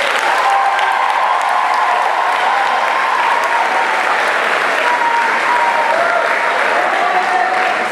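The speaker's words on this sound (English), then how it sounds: "round of applause." A large crowd at a Teach For America Atlanta Institute closing ceremony bursts into loud, continuous applause. The clapping is even and sustained, with no pause throughout.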